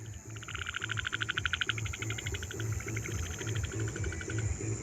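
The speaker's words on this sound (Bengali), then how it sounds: "আর এখানে দেখুন কত ব্যাঙ ডাকছে, দেখুন।" Frogs calling on a lonely river island in Murshidabad at dusk, a steady pulsing chorus of rapid rattling trills over a low repeating croak, continuous and moderately near with no voices.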